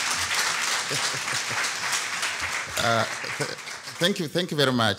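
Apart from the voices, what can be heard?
audience applause for a lecturer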